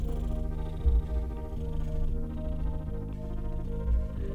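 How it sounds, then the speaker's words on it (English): A cat purrs steadily right up against a microphone, a close, low rumbling drone that holds continuously over a few seconds with slight swells. "He seems to have the perfect angle to purr right into the mic right now."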